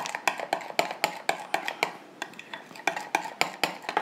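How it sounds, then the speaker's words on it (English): Melted chocolate stirred in a bowl with a flat knife, giving quick, repeated clinks and scrapes of metal against the bowl roughly every quarter second, close and clear with no talking. "I'm using a flat knife to mix it up"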